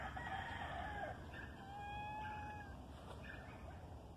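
Gamecock farm where a rooster crows clearly across several seconds, fairly distant and moderate in level, over a steady outdoor background with faint other bird sounds and no talking.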